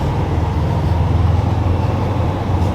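A Toyota GT86 project car drives along, heard from inside the cabin as a steady low engine and road drone with no voices.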